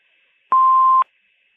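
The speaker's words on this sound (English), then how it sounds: "Please leave your name and phone number after the beep." A single clean electronic beep, about half a second long and steady in pitch, over a faint line hum.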